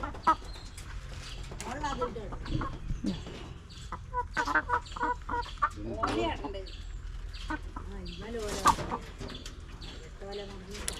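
Chickens cluck and call repeatedly on a farm as they settle into a new coop, close and fairly loud, with bursts of squawking mixed in among people talking.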